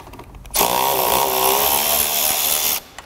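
A power tool runs steadily for about two seconds while removing a 10 millimeter fastener on a Mini Cooper S (R56) during front end removal, a loud continuous whine that starts and stops abruptly.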